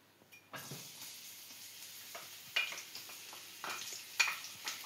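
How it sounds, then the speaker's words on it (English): Sliced garlic drops into a hot pan and fries, starting with a sudden soft sizzle that settles into a low, quiet hiss, broken by a few light scrapes and clicks. "cut the garlic into slices and then throw to the pan"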